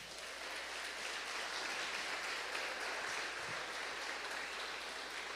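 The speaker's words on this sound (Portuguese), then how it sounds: "Bate palmas para Jesus." A church congregation claps for Jesus, giving steady, even applause throughout at a moderate distance with no pauses.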